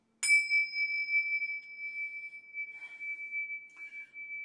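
A meditation bell or small cymbal struck once, ringing with a clear sustained metallic tone that decays slowly over several seconds, with faint rustling near the end and no talk.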